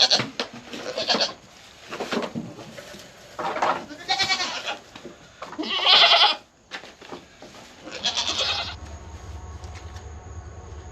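Goats on a farm bleat repeatedly at feeding time, with several loud, close, wavering calls of varied pitch spread across the stretch. There are short gaps between them, and a low hum enters near the end.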